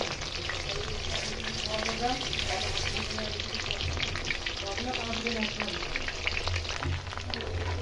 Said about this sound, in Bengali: সবগুলো মাশরুম আমি এভাবে করে ভেজে নিয়েছি।